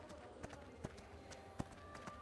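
Horse hooves clip-clopping in a video game, a white horse stepping in a light irregular rhythm of soft thuds, faint and close.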